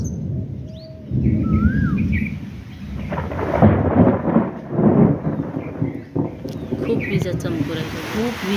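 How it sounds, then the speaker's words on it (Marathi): Deep thunder rolls and rumbles in long swells through the whole stretch during a lightning storm, with birds chirping and calling faintly above it. "आणि तिकडं गडगडत आहे"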